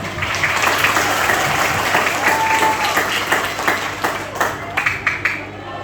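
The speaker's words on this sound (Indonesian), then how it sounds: "Boleh tepuk tangannya dong" An audience at a student roadshow claps loudly and continuously, a dense nearby burst that thins toward the end into a few separate sharp claps, with crowd murmur mixed in.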